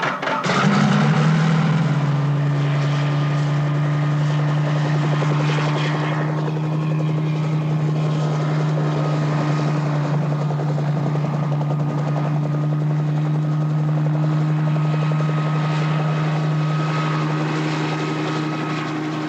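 A helicopter on aerial reconnaissance over a sea region, its rotor droning steadily loud and close for the whole stretch, with no talking.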